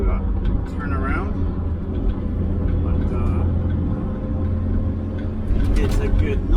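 A 1968 Jaguar E-Type, revived after sitting unused for a few years, drives along a road with its engine giving a steady, loud, low rumble. The rumble continues throughout while someone talks over it.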